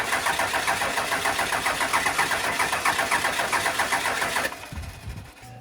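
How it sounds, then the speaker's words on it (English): A 1999 24-valve Cummins diesel cranks over in a steady, rapid starter chug. It is loud and close, then the cranking cuts off near the end and leaves a low, quieter rumble. "So now, we should be able to turn it over and get fuel coming out."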